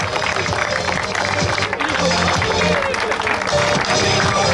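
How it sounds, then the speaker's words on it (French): Crowd applause for the organisers at a French national cup cycling race, the Classic Jean-Patrick Dubuisson, steady and loud throughout, mixed with outdoor crowd noise and an announcer talking over it. "applaudissements pour toute l'organisation, à quelque niveau que ce soit"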